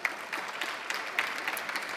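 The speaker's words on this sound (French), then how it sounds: "Je vous demande également de les applaudir." Steady crowd applause for a competition jury, a dense patter of many hands clapping at moderate volume, continuing throughout without pause.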